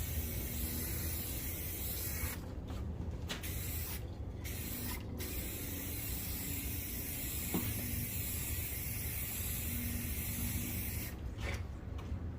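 Steady, close spray-can hiss applying a first coat of paint over a chipped paint repair, with a few brief pauses between passes.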